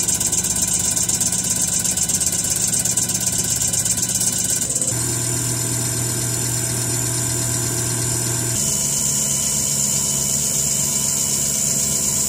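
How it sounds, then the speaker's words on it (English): Cummins QSK19 diesel injector running on a CR919S test bench, giving a steady loud mechanical hum and whine that shifts character twice as the test stage changes, with no talking. "Now we testing Cummins QSK19 injector on our test bench"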